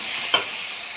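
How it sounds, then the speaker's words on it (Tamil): Urad dal vadas fry in hot oil, a close, even sizzling hiss with one brief crackling pop partway through. "வடை தட்டி போட்டாச்சுங்க."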